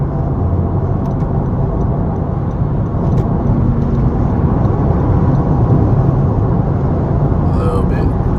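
An Acura car drives along the road with a steady, loud engine and road roar filling the whole stretch, heard from inside the vehicle with no breaks.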